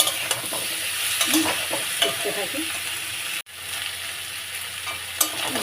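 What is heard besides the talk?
frying raw banana pieces with shrimp in a pan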